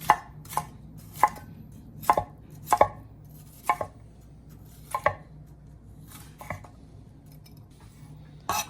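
Kitchen knife chopping ingredients for Jamaican ackee and saltfish with stuffed dumplings: a string of sharp, close chops on a board, irregularly spaced and about a dozen in all, over a steady low background hum.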